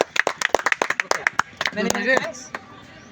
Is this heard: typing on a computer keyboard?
no